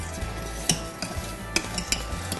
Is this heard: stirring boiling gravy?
yes